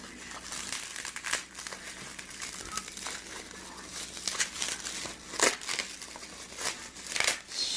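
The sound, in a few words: plastic packaging being cut open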